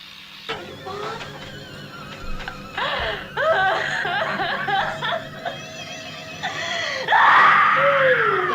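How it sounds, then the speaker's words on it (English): Screaming from the 1974 horror film The Texas Chainsaw Massacre: a woman's loud, sustained shrieks and wails rise and fall over engine-like rumble, growing more frantic toward the end. "Stop screaming, please."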